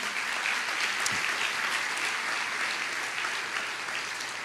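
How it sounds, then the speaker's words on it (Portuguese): Steady, even applause from a church congregation during a sermon, a continuous wash of many hands clapping at moderate volume without voices. "Você pode aplaudir ao Senhor por isso?"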